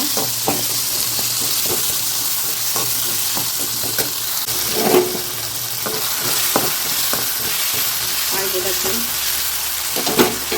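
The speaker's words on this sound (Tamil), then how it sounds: "கத்திரிக்காய் போட்டுருவோம் வதக்கலாம்" Brinjal and other vegetables sauté in a hot pan for a dried-fish curry, with a steady, close sizzle throughout and scattered clinks and scrapes of a spoon stirring them.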